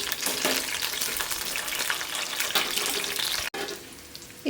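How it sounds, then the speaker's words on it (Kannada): Ginger and garlic fry in a pan with a steady, watery sizzle and occasional stirring, close and moderately loud, pausing briefly near the end, with no one talking. "ಶುಂಠಿ ಬೆಳ್ಳುಳ್ಳಿ ಹಾಕ್ಕೊಳ್ತೀನಿ ಹಾಕ್ಕೊಂಡು ಸ್ವಲ್ಪ ಚೆನ್ನಾಗಿ ಫ್ರೈ ಮಾಡ್ಕೋಬೇಕು"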